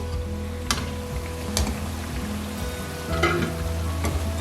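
Pakoras bubble and sizzle steadily in hot oil for kadhi pakora, a close continuous frying crackle with a few sharp clinks of a utensil stirring.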